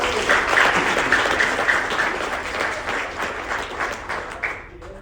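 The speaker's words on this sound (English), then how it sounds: "can we clap it up for Whiskey?" An audience at a university workshop claps steadily, a dense wash of applause that gradually fades toward the end.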